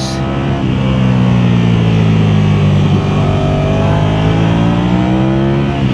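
A bright red Ducati Panigale sports motorcycle engine revs hard and continuously, a loud, close, steady roar with rising and falling pitch throughout, no talking.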